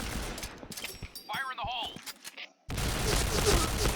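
Gunfire in the video game Point Blank during a one-on-one match, with a sharp burst of shots under a player's talk and a dense rattling volley near the end.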